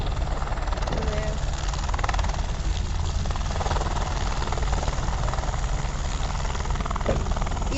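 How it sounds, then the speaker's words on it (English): A police helicopter flies over an airport airshow, its rotor drone steady and fairly loud throughout, with broadband engine noise and some faint crowd sounds around it. "Yeah, definitely a police helicopter"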